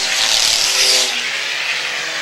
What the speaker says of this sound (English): Well, we're down to about 40 cars on the racetrack.